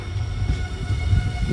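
A train running on the Puducherry to Hyderabad line near Mahbubnagar gives a steady low rumble that rolls on without a break, with no voices.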